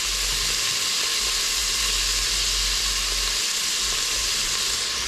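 Meat fries in a pan of bacon fat with a constant loud, close sizzle and hiss that runs unbroken the whole time, alone without talking.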